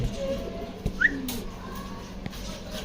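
A few soft pigeon coos nearby over quiet background hum, with a short whistly call in the middle.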